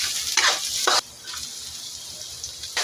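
Garlic and then ginger sautéing in hot oil in a pan: a loud, steady sizzle with two sharp bursts of stirring and scraping near the start, then a softer, continuous frying hiss close to the microphone.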